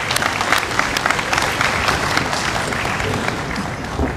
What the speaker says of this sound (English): You can now cheer